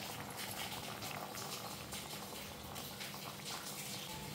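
Brinjal, potato and onion simmer in a pot with water and ground masala paste, giving a steady close bubbling and gentle boiling hiss that carries on without pause.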